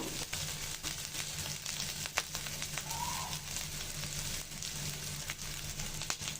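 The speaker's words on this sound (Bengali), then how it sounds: "কাঁচামরিচটা দিয়ে ভেজে নিব" Green chilies fry in a spice paste, giving a soft, steady sizzle with scattered crackles and occasional faint stirring taps, fairly quiet and without speech.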